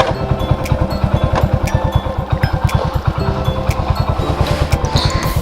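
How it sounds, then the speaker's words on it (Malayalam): A fully modified Hero Honda Splendor with a Euro 1 silencer idles nearby, its loud exhaust thumping in an even, rapid beat throughout with no other sound. "ഇതിൻ്റെ സൈലൻസർ വരുന്നതെന്ന് പറഞ്ഞു കഴിഞ്ഞാൽ യൂറോവോൻ്റെ സൈലൻസറാണ് കേട്ടോ. അത്യാവശ്യം നല്ല രീതിയിൽ തന്നെ സൗണ്ട് ഉണ്ട്."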